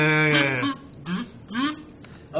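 A kazoo played to mimic a duck gives a few buzzy, nasal quacking honks, loud and close, with short pauses between them and no talk.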